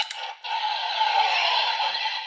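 Turn-on sound from a DX VS Changer toy (Patoren 1gou set) as its parts are turned: a bright, close electronic chime-like burst that swells into a sustained buzzy synthetic tone lasting a couple of seconds, with no voices.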